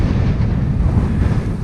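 Steady wind roars into the microphone during a road bike ride into a headwind, a loud, low, continuous rumble with no voices.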